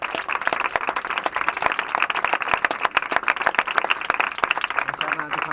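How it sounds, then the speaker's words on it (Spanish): A concert audience applauds at a summer show in San Pedro, a steady, close wash of many hands clapping that holds evenly throughout, with no speech on top. "un aplauso para toda la gente de la oficina que se lo lleva burlando mucho tiempo"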